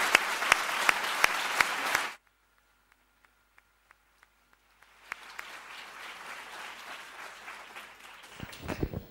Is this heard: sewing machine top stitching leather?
no